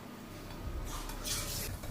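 A metal lid set onto a pan of jitada fish cooking over a low flame in a home kitchen, giving a soft clink and scrape over a steady low sizzle, with a brighter rattle near the end.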